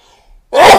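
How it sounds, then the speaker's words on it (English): A single sharp sneeze bursts out loud and close after a brief quiet intake, lasting a fraction of a second. "Ooh, I'm going to sneeze."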